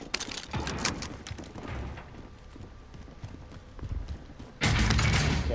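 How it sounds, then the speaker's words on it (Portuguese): Running footsteps in Call of Duty: Modern Warfare Resurgence sound as a quick, steady patter of steps over constant game noise, ending in a louder, denser burst of sound. "Barulho de correndo."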